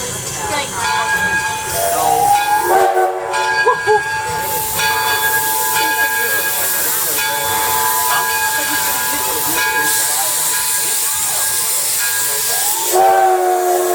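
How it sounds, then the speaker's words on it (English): A steam locomotive, the Edison engine on an evening passenger ride at an old car festival, sounds a long, loud, sustained whistle blast over a constant hiss of escaping steam, holding steady for most of the stretch. "The engineer will give a blast of the whistle"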